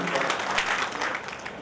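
An audience at a Lions Club Delhi Kiran event for the Jan Aushadhi Kendra applauds to welcome a minister, a dense, continuous crowd clapping close by at steady volume.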